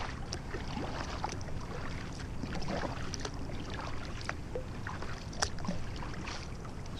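A kayak glides over calm water in the early morning near Des Moines, Washington, with soft continuous lapping and scattered small paddle drips and clicks, quiet and close.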